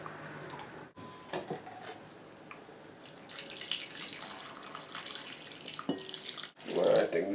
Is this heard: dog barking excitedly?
no